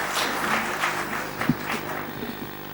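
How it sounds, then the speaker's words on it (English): Audience applause at a motivational talk event, a soft, muffled patter of clapping with a few louder hand claps scattered through it, heard at a distance throughout. "A big round of applause for NPS."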